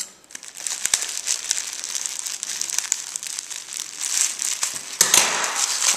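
Plain cellophane wrapping on a Henri Lloyd package crinkles and crackles loudly as it is pulled and worked open, with a continuous rustle and sharper crumpling bursts near the end.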